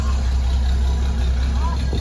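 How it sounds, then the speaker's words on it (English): A car engine idles steadily with a newly installed single exhaust routed underneath and out the back, replacing a header-only setup; a low, even rumble runs throughout with no change in pace. "single exhaust, super chill compared to what it was with just the header on there"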